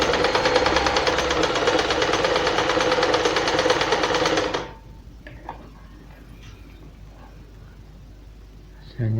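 A Janome 1122 EX sewing machine stitches with a rapid, loud, steady mechanical rattle for about four and a half seconds, then stops, leaving quiet with faint clicks and handling noises.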